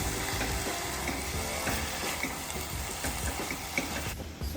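Mutton pieces frying in hot oil with bay leaf and peppercorns, a steady close sizzle with occasional stirring clatter, continuous and fairly loud throughout, no voices.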